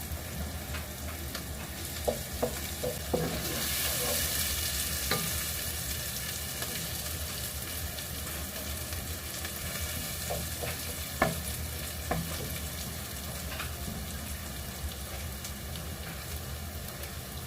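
Onions fry in a pan for a mixed vegetable dish, sizzling steadily and close at hand with scattered light clicks and a louder spatula knock near the middle, and nobody talks.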